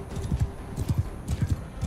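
In the video game Mount & Blade 2: Bannerlord, horse hooves clip-clop in a steady galloping rhythm with soft paired thuds, moderately close, on their own over faint background ambience.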